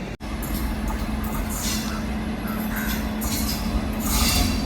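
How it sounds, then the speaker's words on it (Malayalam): The Alappuzha–Dhanbad Express, hauled by a WAP-7 locomotive, rolls into a Kerala station with a steady, loud rumble of wheels and carriages and a faint squeal, continuous throughout. "റായപുരം WP7 ആയിട്ട് വന്നു കയറുന്നത് ആലപ്പുഴ ധൻബാദ് എക്സ്പ്രസ് ആട്ടോ"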